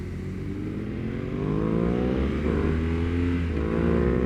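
A BMW R NineT Urban G/S motorcycle engine climbs steadily in revs for about four seconds, a loud, close, continuous drone that rises in pitch and grows a little louder as it goes.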